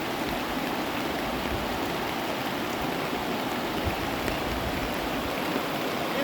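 The Kosi river rushes in a steady, dense wash of flowing water, continuous and even, with no voices over it.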